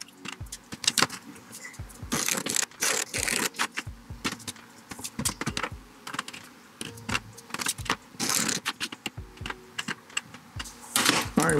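Lines are marked out and Kydex thermoplastic sheet is cut for a knife sheath, producing loud close clattering scrapes, taps and sharp plastic snaps in irregular bursts.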